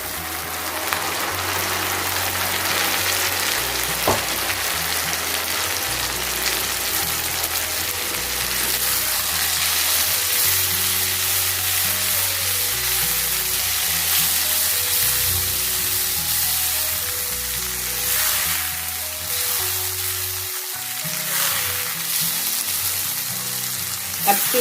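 Blended tomatoes hit hot oil in a pan of kebab masala gravy, giving a loud, continuous sizzle and bubbling fry with occasional stirring and no talking.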